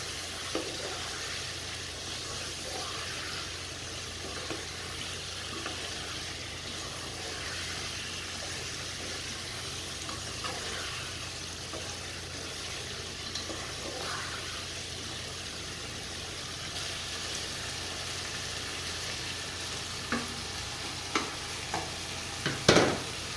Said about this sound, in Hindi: अब हमने जो आलू और बैंगन फ्राई किए थे वो डाल देंगे। बिस्मिल्लाहिर्रहमानिर्रहीम। मिक्स करेंगे